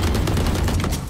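Rapid gunfire from Valorant fills the clip: dense, continuous bursts of automatic shots, loud and close, with no talk over them.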